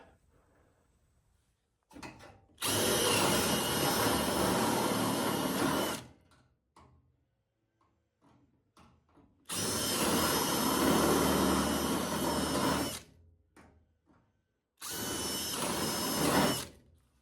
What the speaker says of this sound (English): I'm gonna take it back off and wire brush the rust that's gonna be underneath.